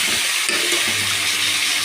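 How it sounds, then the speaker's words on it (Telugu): Running water splashes steadily with soft rinsing and swishing as finely chopped chukka kura (sorrel leaves) are washed in salt water, close by with no voices. "సన్నగా తరుముకున్న చుక్కాకును సాల్ట్ వాటర్లో బాగా క్లీన్ చేసుకోవాలి"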